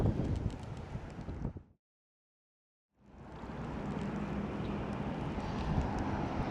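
Strong wind on the water while fishing buffets the microphone in loud, rumbling gusts, cutting out briefly before roaring back steadily.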